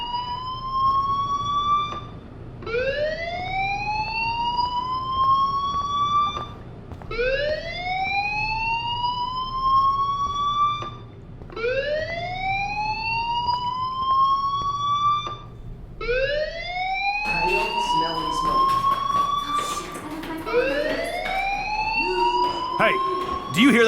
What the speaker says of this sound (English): you hear that fire alarm? That means you should be outside.